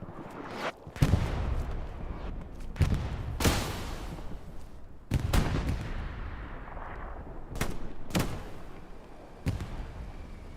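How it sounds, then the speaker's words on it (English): Artillery shells and gunfire on Utah Beach in the World War II shooter Hell Let Loose during a large competitive match: sharp, loud blasts and shots strike repeatedly at irregular intervals, each followed by a rumbling tail. "The artillery shell comes down right afterwards."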